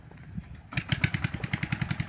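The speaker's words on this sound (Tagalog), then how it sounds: "tunog ng motor yun. Motor, bangka. Motor ng bangkang pangisda" A small fishing boat motor sputters to life and settles into a steady, fast putt-putt rhythm, loud and near.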